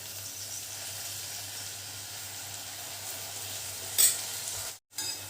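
Soya chilli with red chilli and soy sauce fries and is stirred in a pan, giving a steady, quiet sizzle with a brief clink near the end.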